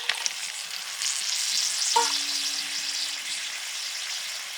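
Chicken frying in a pan for mixed fried rice, a loud, even sizzle that swells and holds steady, with a brief ringing tone partway through and no voices.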